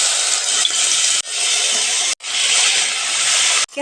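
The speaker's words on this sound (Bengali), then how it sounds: "এখন একে একে মাছগুলো সব মাছ ভেজে নিব।" Katla fish frying in hot oil in a wok: a loud, steady hiss of sizzling that breaks off briefly twice as pieces are added, then surges again close by.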